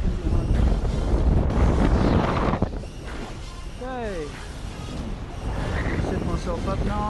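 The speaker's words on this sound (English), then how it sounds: "For a top landing, the wind's quite strong" Strong wind buffets the microphone while paragliding over a hill, a loud, roaring rush that eases and gusts throughout, with a person talking over it.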